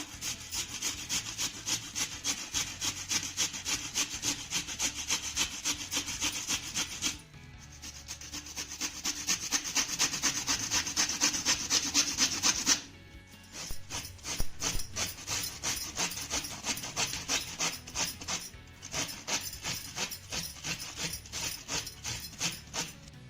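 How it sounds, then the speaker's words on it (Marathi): Bitter gourd grated on a small hand grater makes a loud, close, rhythmic rasping that repeats in quick even strokes, with two brief pauses in between. "आपण आता ही कारली किसून घेऊया कारलं किसण्यासाठी इथे मी छोट्या किसनीचा वापर करते"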